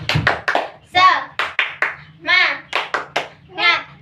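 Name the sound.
class doing tepuk semangat clapping routine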